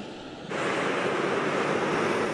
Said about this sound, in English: the rain is coming down faster than the water can